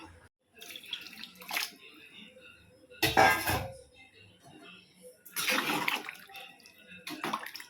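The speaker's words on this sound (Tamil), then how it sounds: "இந்த சாம்பாருக்கு தேவையான தண்ணி சேர்த்துக்கலாம்." Water poured into a pot of sambar with mango, brinjal and drumstick, a few bursts of splashing pouring with clinking of the pot in between, close and moderately loud.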